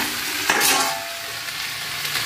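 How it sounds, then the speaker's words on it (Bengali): Long-cut mixed vegetables are stirred in a frying pan, giving a steady sizzle with a short louder scrape of the spoon partway through, close and without voices. "বিভিন্ন সবজি লম্বা লম্বা করে কেটে রেখেছিলাম, সেগুলো একটু নাড়বো"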